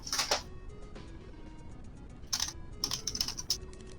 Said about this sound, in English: Yep, I hear typing.